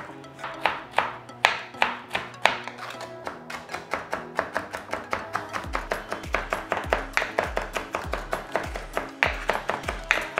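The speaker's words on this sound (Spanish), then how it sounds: "vamos a comenzar a picar nuestro ají amarillo" Knife chopping yellow ají amarillo chili pepper on a board for chimichurri, a long run of close, crisp, steady cuts that speed up into a fast, even rhythm.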